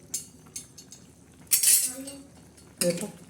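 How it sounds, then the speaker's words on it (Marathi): A spoon stirs chicken curry in a metal pot, giving a few sharp clinks and scrapes in separate bursts against quiet background bubbling. "परत एकदा हलवून घेऊया"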